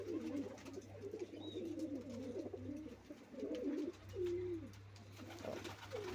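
Pigeons coo repeatedly in soft, rolling phrases, fairly close, with a low steady hum underneath and no talking.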